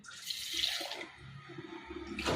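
Water is poured into a cooking pot in a home kitchen while making sweet rice-flour kadubu, a close, continuous splashing pour lasting a couple of seconds with no talking.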